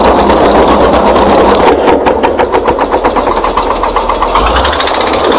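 A voice close to the microphone imitates a small tractor engine, a loud buzzing putter that breaks into a rapid, steady chugging rhythm for several seconds.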